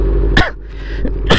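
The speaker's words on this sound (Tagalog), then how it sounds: "Itong inuubo ako ah." A man coughs outdoors by a motorcycle, two short harsh coughs separated by a brief pause over a low steady engine-like rumble.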